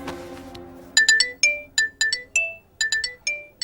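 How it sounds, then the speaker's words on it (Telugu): A mobile phone rings with an incoming call in a Telugu romantic film scene: a bright, melodic electronic ringtone plays a rapid series of short chiming notes in repeating bursts, loud and clear after a quiet opening. "ఊరు నన్ను ఇది ఫోన్ చేసిందండి."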